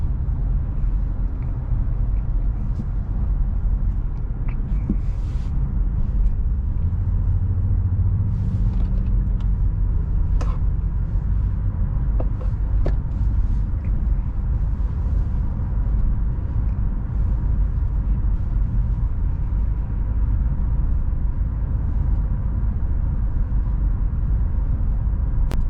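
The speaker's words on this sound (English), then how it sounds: "Hear a little bit of wind noise" Steady wind rush and low road rumble inside a 2022 Honda Passport TrailSport at driving speed, a continuous broadband hiss over a deep engine and tyre drone with no voices.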